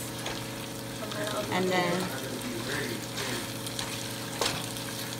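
Ground pork and fresh tomato saute in a pan with a steady close sizzle, broken by spatula scrapes and stirring knocks, while a person speaks briefly over it.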